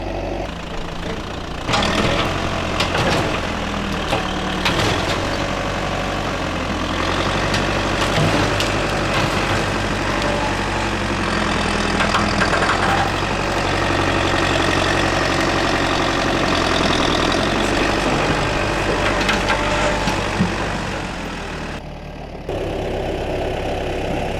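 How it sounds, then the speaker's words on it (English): A vintage backhoe's engine runs at a steady, loud idle throughout, rough and knocking, while the machine is pulled up off the ground in the woods, cutting out sharply near the end. "Just pulling the backhoe off the ground"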